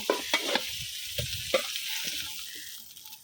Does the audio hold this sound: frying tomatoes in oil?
yes